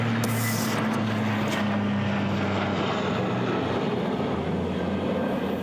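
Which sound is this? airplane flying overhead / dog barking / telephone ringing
airplane flying overhead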